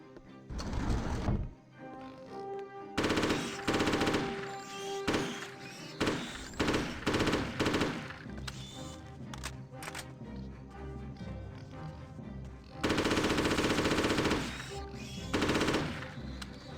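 Bursts of M4 rifle fire in Hitman 2: Silent Assassin, loud and close, with several sustained automatic volleys separated by short pauses and a long final burst.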